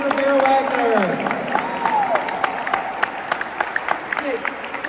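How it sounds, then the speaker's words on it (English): Scattered clapping builds and thins out from a crowd at an AmeriCorps Day event at the Wisconsin Capitol, with people talking and calling out over it. "let's give up a huge round of applause for Representative Madison"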